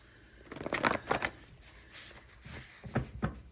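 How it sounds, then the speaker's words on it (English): A deck of tarot cards being shuffled in several short riffling bursts, separated by pauses, close and fairly quiet with no talking. "These cards are really kind of weird to try to shuffle"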